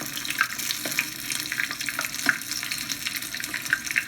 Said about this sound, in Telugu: కొంచెం డీప్ ఫ్రై చేస్తే మంచిది బోత్ సైడ్స్ బాగా వేయాలి